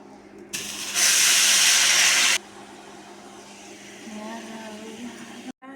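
Homemade ghee bubbles in a kadai, breaking into a loud, steady sizzling hiss for about a second and a half before settling into a softer simmer, with faint voices in the background.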